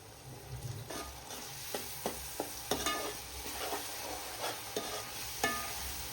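Village-style fish masala with salt and turmeric cooks on a low flame, a soft simmering sizzle punctuated by repeated spoon clacks and stirring strokes against the pot, close and fairly quiet.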